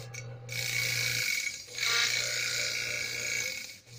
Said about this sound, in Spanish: Ese es el ritmo en que trabajaría la lavadora redonda una vez que le hagamos la adaptación del timer